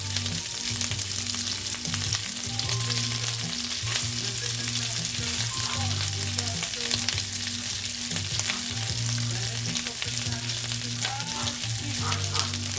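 Calrose rice frying in a pan for fried rice, a steady close crackling sizzle that continues throughout over a low background hum.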